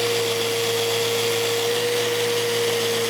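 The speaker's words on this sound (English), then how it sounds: "starting with the medium pad on the 6-inch sander" Festool Rotex 6-inch sander fitted with a medium pad, running close by as a loud, constant whine with a steady tonal hum and broadband hiss and no pauses.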